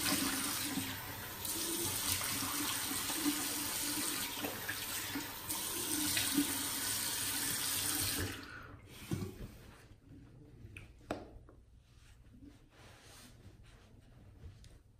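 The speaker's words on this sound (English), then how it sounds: "Let me rinse the face and we'll lather up again." Tap water runs steadily into a sink for about eight seconds while a face is rinsed during a shave, then stops, leaving soft splashes and drips close by.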